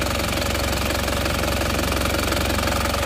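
A motorcycle engine runs loud and close with a fast, even knocking pulse and a dense mechanical clatter, held at raised revs while the oil blow-by is checked.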